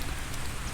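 Steady patter of rain falling beside a hotel pool in Kona, Hawaii, a soft even hiss of drops on surfaces with no voices.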